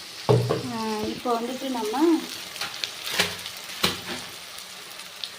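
Masala being sautéed in a pan for Tamil-style mutton curry, a steady frying sizzle with scraping stirs, under a voice speaking Tamil at the start and clinks of a spoon against the pan later.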